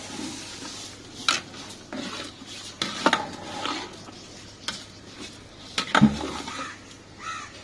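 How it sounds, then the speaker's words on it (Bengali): Washed, soaked rice goes into a cooking pot for Bengali khichuri, with scattered clinks and scrapes of metal utensils against the pot and a soft sizzle underneath; several distinct knocks at irregular intervals, close and moderately loud. "এখন চালটা দিয়ে দিচ্ছি।"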